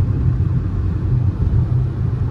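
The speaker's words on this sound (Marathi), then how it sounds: "सगळे सनाट निघतात गाड्या." Cars rush along the Samruddhi expressway in a steady, loud low rumble of engines and road noise, with no voices.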